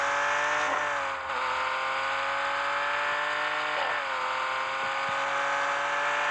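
Virtual car drifting in the mobile game Car Parking Multiplayer, a loud, steady engine roar held at high revs with shifting pitch sweeps and tire squeal, heard alone without talk.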